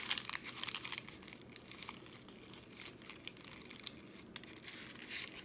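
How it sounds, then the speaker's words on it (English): A paper cupcake liner is folded in half for a handmade Hanukkah decoration, giving soft, close crinkling and rustling in quick irregular bursts. "Like I do with all my cupcake liners, I fold this in half."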